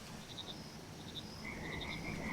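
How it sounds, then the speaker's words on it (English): Frogs croak in the video game Mudborne, a few short, repeated chirping croaks in small bursts, clear and moderately loud over a steady background hum with no talking. "We should be getting the froggies any moment"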